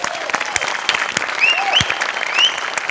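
An audience at a comedy show claps loudly in a dense, sustained round of applause, with a few whistles rising over the clapping.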